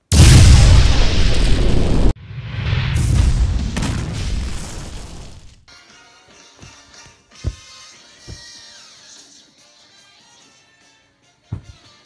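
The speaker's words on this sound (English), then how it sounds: "Hit it with some cool laser blast." Animated laser blast explosion: a loud roaring boom that cuts off and is followed by a second rumbling blast. It then drops to a quiet ringing tail with a few sharp pops and taps.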